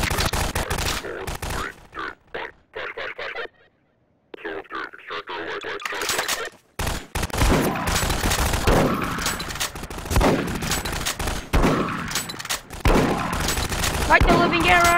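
Gunfire inside the Garry's Mod sandbox game during an alien invasion, with bursts of rapid shots and fusillades that break off briefly into near silence, then resume densely. Voices are heard talking throughout.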